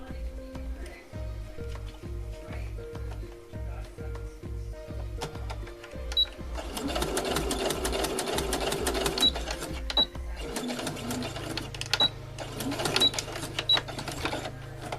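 A domestic sewing machine stitches fabric for doll socks, first in slow separate stitches, then a quick continuous whirring run, then a softer low hum, all close and fairly quiet.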